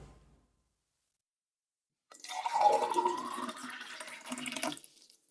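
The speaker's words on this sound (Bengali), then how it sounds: "এই পানি সব ফেলে দিলে কেন" Water glugs and splashes as it is poured out of a bottle in a home, a steady pour of about three seconds after a brief silence.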